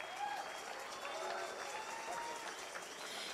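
Crowd applause during a new-fire ceremony at a national student sports event, a soft, continuous spread of clapping heard from a distance with low crowd murmur beneath it.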